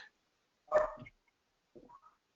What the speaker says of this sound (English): I can hear someone's dog barking.